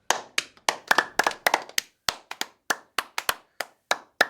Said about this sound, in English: give a big round of applause to Sagan